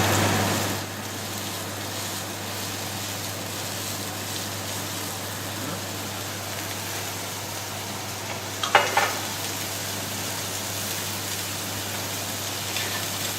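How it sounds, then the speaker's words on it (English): Enoki mushrooms fry in oil in a pan with a steady, dense sizzle that stays even throughout, broken once by a brief clatter partway through. "we're going to cook out those enoki just quickly"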